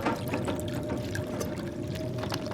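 A continuous watery pouring and sloshing plays as a survival character drinks water in the video game The Long Dark, close and steady for its whole length with no speech.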